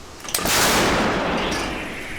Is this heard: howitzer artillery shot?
yes